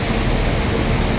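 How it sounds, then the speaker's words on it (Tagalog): An MRT train at Ayala station in Makati produces a brief, loud, dense rumble that fills the moment with no voices. "baba ko lang na MRT ay ng bus dito sa Ayala,"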